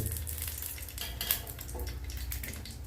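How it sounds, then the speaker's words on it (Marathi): Red chillies heating in a spoonful of oil in a pan for a garlic and red chilli thecha, giving a soft continuous sizzle broken by a few light clinks and scrapes of stirring. "त्या मिरच्या आता गरम करून घेऊया"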